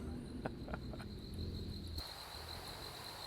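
Crickets chirping at night in American Truck Simulator, a constant high-pitched trill over a low background hum, with a few soft clicks early on and no talk.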